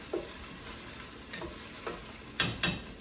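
Onions and roasted red pepper frying gently in a pan on low heat, with a soft steady sizzle broken by a handful of scraping stirs spread across the clip, fairly faint and close, with no voices.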